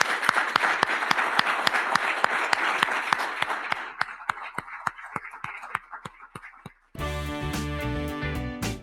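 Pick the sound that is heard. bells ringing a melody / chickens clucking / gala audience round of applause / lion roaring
gala audience round of applause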